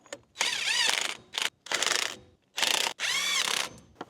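A torque wrench ratchets on the wheel hub of a K1500 truck during a hub replacement, in five close, loud bursts of quick clicking separated by short pauses.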